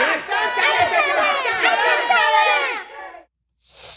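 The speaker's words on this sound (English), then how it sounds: "Start cheering now." A studio audience cheers and chatters loudly for about three seconds, a dense crowd of overlapping excited voices, then cuts off abruptly to silence before a faint bit of noise returns.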